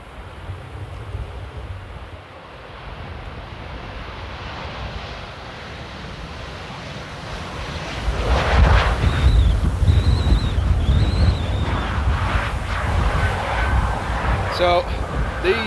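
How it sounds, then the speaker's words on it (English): Strong wind buffets the microphone at Amsterdam Airport, a steady low roar that swells louder midway with gusty rumbling, while a distant aircraft tone rises and falls in the background. "So this is what the winds are doing at the moment. If you're wondering if the wind is blowing, it is."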